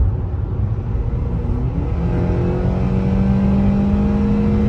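2010 Acura TSX engine revving up through the gears with a steady loud drone and rising pitch, close and continuous, no talk.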